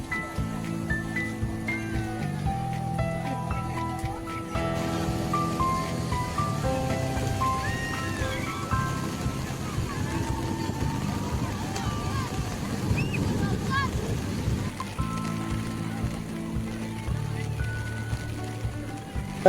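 Steady rain patters and hisses across the whole stretch at the Ganpatipule seashore, mixed with a melodic music track running underneath.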